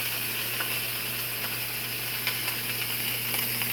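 Steak searing in a hot pan gives a steady, soft hiss and sizzle with faint crackles, heard alone at a modest level for a few seconds.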